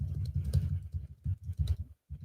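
Quick typing on a computer keyboard, a close run of soft rapid key clicks with a brief pause near the end.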